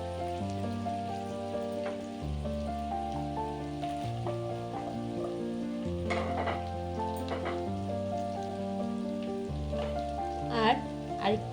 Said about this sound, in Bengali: এবার ভালো করে একটু কষাবো।